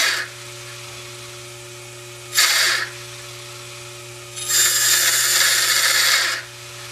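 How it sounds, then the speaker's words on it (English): A Hammond organ tone generator hums steadily while a pickup rod is pushed into the spinning tone wheel, giving two bursts of harsh grinding buzz, one short and one about two seconds long, close and loud over the constant drone. "exactly what would happen if somebody were to run his pickup rod into the tone wheel"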